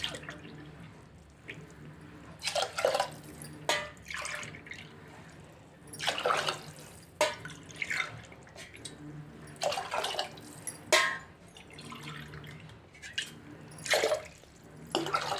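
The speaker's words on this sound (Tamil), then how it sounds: "ஆறு டம்ளர் தண்ணி விட்டாச்சு." Water pours in several separate bursts, splashing into a cooking pot with quiet pauses in between.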